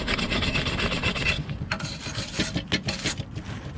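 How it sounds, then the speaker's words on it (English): A brush scrubs across a fresh weld on a BMW E36 rear subframe reinforcement plate, giving a close, rapid rasping rub that runs steadily, then breaks into shorter strokes. "Let me clean that up with a brush."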